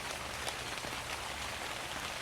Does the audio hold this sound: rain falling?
yes